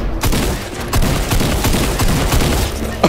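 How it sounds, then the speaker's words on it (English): Rapid gunfire and explosions from a Fortnite match, dense continuous bursts of shots and booms filling the whole stretch at close, loud level. "That is so much explosion."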